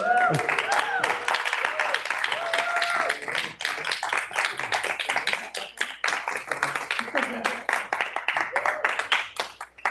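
Audience applause at a San Francisco demo day, dense clapping from a crowd that swells and holds for the full stretch, mixed with some voices underneath.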